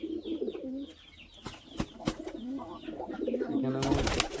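Fancy pigeons coo in low, repeated throaty calls close by, with a few sharp clicks and wing flutters among them.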